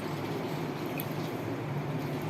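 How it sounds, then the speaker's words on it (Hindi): A cup of water goes into a karahi holding two cups of cooking oil, giving a continuous, close sound of liquid pouring and splashing over a low background. "अब इसमें 1 कप हमने पानी का शामिल"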